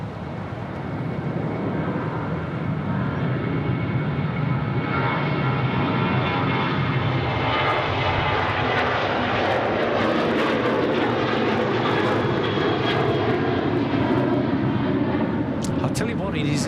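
A QantasLink aircraft landing on runway 34 right at Sydney Airport produces a sustained, loud engine roar that swells and holds, and faint radio-like clicks come near the end.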